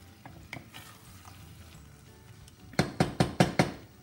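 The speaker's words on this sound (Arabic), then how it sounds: "نخليوها تاخذ غلوه صغيره، تتحل الطماطم والكل تتقلى" Tomato sauce for shrimp spaghetti sizzling softly in a pan under a steady low frying hiss, then a quick burst of five sharp knocks as a utensil strikes the pan near the end.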